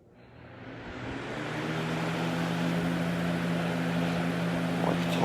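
A 2004 GE-branded Lasko box fan runs on its high setting, a steady broadband whoosh with a low motor hum and tonal drone that swells up over the first couple of seconds and then holds level, close and loud, with no talk.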